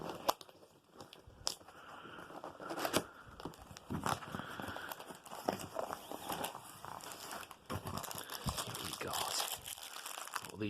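Packaging for a 5-tier extending shoe rack is pulled open, with continuous close crinkling and crackling of plastic and irregular sharp rustles and snaps throughout.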